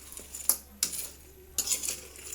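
A utensil scrapes and clinks in a pot of cooking crabs, three short bursts of stirring with quiet gaps between, close and fairly soft.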